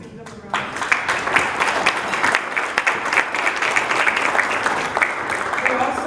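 A room of Rotary club members breaks into applause after a brief quiet moment, steady clapping with scattered louder hits continuing for several seconds at moderate volume.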